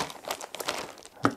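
An extra plastic bag from a Traxxas Slash RC car package is cut open with a knife, producing a brief close crinkling and tearing rustle that ends in one sharp crackle.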